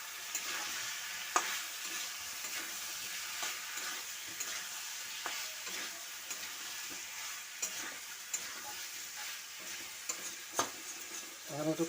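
Large potato chunks are sautéed in a pan. A constant soft sizzle runs throughout, broken by regular spatula scrapes and stirring clicks.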